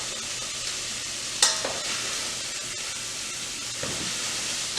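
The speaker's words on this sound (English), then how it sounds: "Here we have a nice sizzle there." Onions frying in a pan for tomato sauce, a constant loud sizzle with a brief sharp scrape or clatter from stirring partway through.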